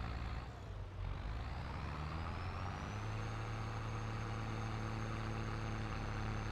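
A tractor engine in Farming Simulator 22 drones steadily while pulling a plow, a low sustained rumble with a faint rising whine as the revs climb and hold.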